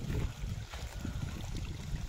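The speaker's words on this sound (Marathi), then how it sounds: "हे बघा आपलं पाणी चालू झालंय मित्रांनो." Irrigation water running through a sugarcane field, a steady close rushing and gurgling flow that continues without a break and without voices.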